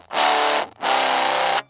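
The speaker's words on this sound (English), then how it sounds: "That's on the neck pickup." An electric guitar on its neck pickup plays through a miked Smokey mini amp with effects pedals. Two sustained, distorted chords ring out back to back, each about three-quarters of a second, close and loud.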